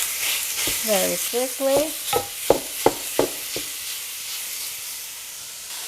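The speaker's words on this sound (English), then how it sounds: "I'm going to brown 1 1/3 pounds of lean ground beef" Lean ground beef browning in a deep sauté pan over medium-high heat, with a few loud stirring and scraping knocks of a utensil against the pan over a steady sizzle; a voice speaks briefly.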